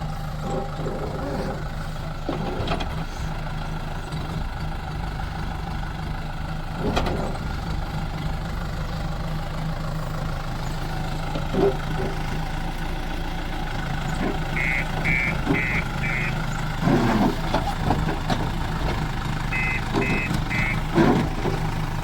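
Tractors pulling trolleys roll out of the Rajpura grain market, a steady low engine drone throughout, with intermittent high reversing beeps and other vehicles nearby.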